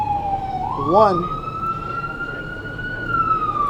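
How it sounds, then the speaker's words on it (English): An ambulance siren sweeps past near a Houston police news briefing on an officer's killing, its steady wailing tone rising and falling while someone speaks over it briefly. "I'll let that ambulance go by"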